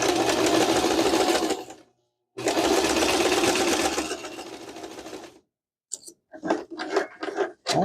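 Sewing machine stitching in two long loud continuous runs separated by a brief pause, followed by short intermittent bursts of stitching and clicks near the end.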